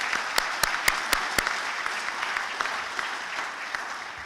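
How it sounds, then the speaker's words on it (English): Steady applause from a ceremony audience honoring the contributors at a military change of command, dense clapping with a few sharp louder claps near the start, continuing at an even level throughout. "Let's give them a round of applause."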